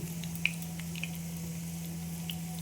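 Fish roe fritters fry in oil with a low, steady sizzle broken by a few faint pops and spits. A constant hum sits underneath, and no one speaks.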